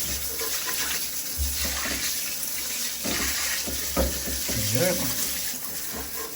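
Water runs steadily from a bath tap being tested, a broadband wash filling the clip close by, with a voice speaking briefly over it.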